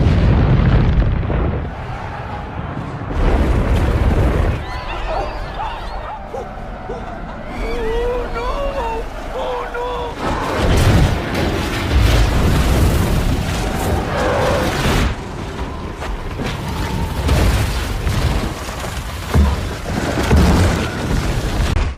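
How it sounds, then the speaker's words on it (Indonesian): Heavy booming explosions and rumbling crashes triggering a snow avalanche on a mountain, loud and dense, with a roaring rush of sliding snow, mixed with dramatic music and a voice. "Karena banyak ledakan, salju di gunung itu longsor."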